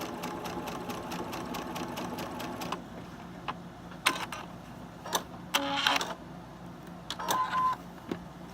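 Sewing machine stitching a seam for a Halloween sew-along, a rapid steady run of needle strokes that stops partway, followed by scattered clicks, knocks and handling noises of fabric and machine close by.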